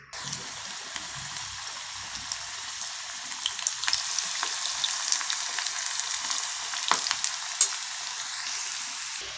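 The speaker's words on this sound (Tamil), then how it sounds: "இப்போ நம்ம அந்த பெரட்டி வச்சுருந்த அந்த பாவக்காய், பூண்டு, வெங்காயம்லாம் நம்ம இதில் கொஞ்சம் கொஞ்சமாக போட்டு பொரித்து எடுத்துக்கலாம்" Bitter gourd pieces with garlic and onion fry in hot oil, a dense continuous sizzle with crackling pops and a few louder spits, close and steady without talk.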